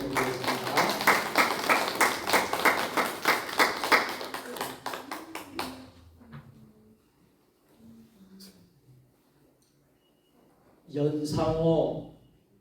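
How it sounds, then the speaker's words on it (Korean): During a Korean Sunday worship service, the congregation gives a round of steady, brisk applause of thanks for about five seconds, then it stops abruptly and a voice speaks over quiet room sound. "우리의 모든 질병 병마를 고쳐 주시는 우리 하나님께 감사의 박수를 올려드리겠습니다"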